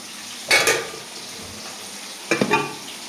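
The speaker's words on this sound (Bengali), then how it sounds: "ওই যে এখানে মাছ রান্না করছি" Fish cooks in a pan over a faint, steady sizzle, broken by two short bursts of scraping as the pieces are stirred, close and unaccompanied by talk.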